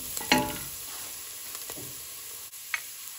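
Mussels sizzle in a frying pan with pepper powder mixed in, marked by a sharp utensil scrape at the start and a few light clicks, all close and moderately loud, with no speech.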